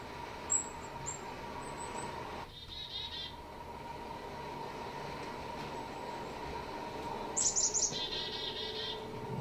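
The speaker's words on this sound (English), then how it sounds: "It's Dora's favorite bird, by the way" A bird gives short, bright chirping calls in two brief bursts, one near the start and one near the end, over a steady rumbling background that resembles a passing train.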